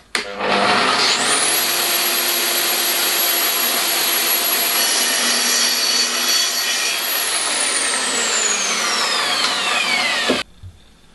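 Tracksaw making the first cut in a workpiece on a trenching jig, a loud close whine that spins up sharply, holds steady while cutting for about nine seconds, then stops abruptly.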